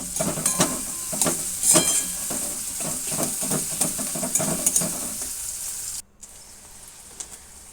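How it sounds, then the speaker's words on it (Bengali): Chopped onion and garlic sizzle in hot oil in a pan while being stirred, with rhythmic scraping strokes of a spatula under a steady frying hiss, loud and close, then quieter near the end. "এবার পেঁয়াজ আর রসুন কুচি একসঙ্গে আমি ভালো করে ভেজে নেব।"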